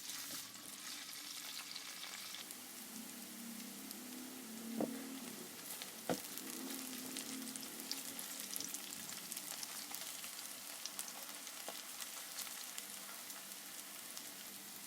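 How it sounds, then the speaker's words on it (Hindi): Onions and chillies frying in a pan while cooking Lahori chickpea curry, a steady close sizzle and crackle running throughout with a couple of brief knocks, no voices. "हमारी मिर्चें डालकर इसको अच्छे तरीके से ज़रा थोड़ा सा लाइटली ब्राउन कर लेंगे"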